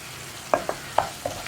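A spoon stirs tomato curry with spice powders in a pan, giving four distinct knocks and scrapes over a soft, low sizzle.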